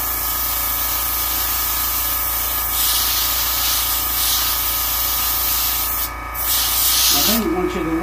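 Hand-held airbrush spraying paint onto a skin-mounted bluegill fish, a steady broadband hiss running throughout with a brief pause near the end as a voice begins.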